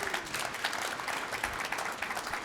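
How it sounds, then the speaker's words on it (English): A short burst of steady audience applause for a panel speaker at an economic outlook event, many hands clapping evenly throughout with a faint crowd murmur underneath. "Round of applause for him."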